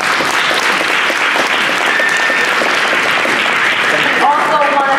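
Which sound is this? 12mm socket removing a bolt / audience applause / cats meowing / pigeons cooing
audience applause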